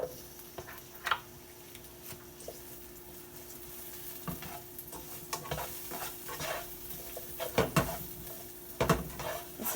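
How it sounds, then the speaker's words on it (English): Butter sizzles in a frying pan as a utensil stirs it, with a soft steady fizz under irregular scraping and clinks of metal against the pan that grow busier toward the end. "I'm going to take just a tablespoon of butter and add"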